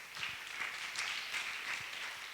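A church congregation gives a brief round of applause, a dense, moderately distant patter of many hands clapping steadily throughout.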